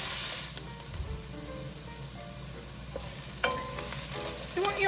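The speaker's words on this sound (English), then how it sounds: "when you put the food in the pan, it should start to sizzle like it did now" Onions sizzle and fry in a pan, a steady close crackle with stirring scrapes and a few clinks toward the end.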